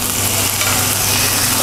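Rib satay grilling on a hot teflon pan, a loud, dense, continuous sizzle with steady hiss and crackle right up close, no voices.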